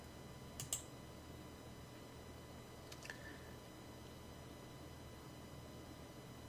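Two faint computer mouse clicks sound a couple of seconds apart against a quiet, hissy background.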